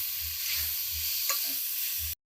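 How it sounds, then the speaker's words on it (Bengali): Boiled rohu fish pieces frying in oil with red chilli powder, a steady close sizzle with soft stirring scrapes, alone, ending abruptly. "এবার মাছগুলোকে আমি ভালোভাবে ভেজে নেব।"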